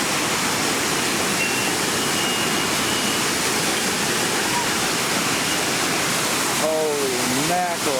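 Water rushing at Hoover Dam makes a loud, continuous roar of broadband noise throughout, with a brief voice-like sound near the end.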